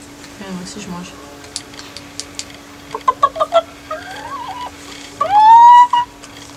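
A woman imitates a hen, making a run of short clucking notes followed by a drawn-out rising squawk, close to the mic with a steady hum behind.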